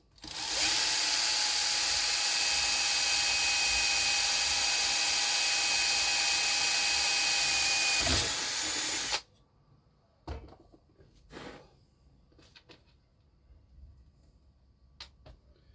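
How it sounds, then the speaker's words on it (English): A power drill whirs steadily at high speed through plastic for several seconds while building a model truck trailer chassis, then stops, followed by a few clicks and handling knocks. "So I'll drill another one."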